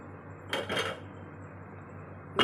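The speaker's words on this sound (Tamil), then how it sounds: "இப்போ நாம் மிக்ஸி ஜார் எடுத்துக்க போகிறோம்." A mixie jar is picked up in a home kitchen, giving a couple of short hard clinks and knocks that fade into a quiet room with a low hum, then one more clatter at the end.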